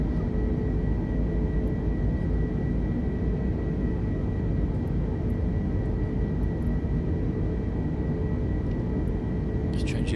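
Steady broadband engine drone of an airliner cruising into a headwind in Microsoft Flight Simulator 2020, on a flight from Bristol to Zante; a continuous, even rumble holds throughout with a few faint high ticks near the end.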